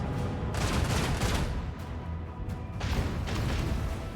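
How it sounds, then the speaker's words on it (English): Starship starboard guns fire in the Warhammer 40,000 video game Rogue Trader, a steady dense barrage of booming volleys with two louder bursts, played alone without talk. "I'm going to fire my starboard guns at the melta torpedoes."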